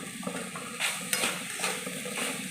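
Ginger paste and turmeric being stirred in a pot while cooking pulao, with steady scraping strokes and a soft sizzle repeating in a close, even rhythm, no voices.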